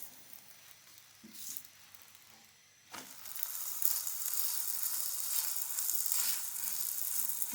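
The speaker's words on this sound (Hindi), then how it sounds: "अब हम इस पे घी लगा देंगे। और अच्छी तरह से पराठे को तल लेंगे गोल्डन होने तक।" Lachha paratha frying in ghee: a quiet pan with a few light clicks, then a loud, steady sizzle that swells and holds close up to the end.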